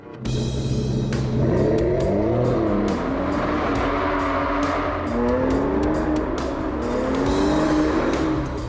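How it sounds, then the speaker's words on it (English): A powerful V12 sports car engine with valved exhaust revs hard and loud, its pitch climbing and falling through repeated surges, with a raspy, roaring exhaust note throughout. "I've also got some little valves that open in my exhaust system to make it sound that little bit better"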